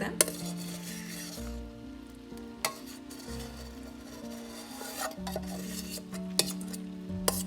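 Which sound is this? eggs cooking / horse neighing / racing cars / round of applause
eggs cooking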